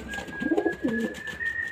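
A small green male pigeon gives a short burst of low rolling coos close by, over a steady high-pitched background tone.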